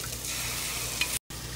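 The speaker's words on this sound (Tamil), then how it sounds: "இங்கே விசில் விட்டு வச்சுருக்கிற பருப்பை இதுக்குள்ளே ஊற்றிடலாங்க." Hot curry pan for a Tamil veg kulambu sizzling steadily as pressure-cooked dal is poured in and stirred, a continuous close frying hiss with a brief cutout near the end, no voices.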